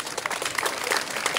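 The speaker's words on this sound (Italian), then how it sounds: "Ok, un applauso." Audience applause at an outdoor athletics event in Oria, a brisk wash of clapping from a crowd, fairly close and continuous throughout.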